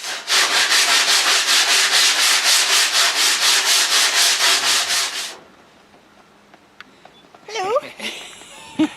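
A boat fitting is sanded down to size in rapid, even back-and-forth strokes, loud and close, for about five seconds before stopping; quieter room sounds and a brief voice follow.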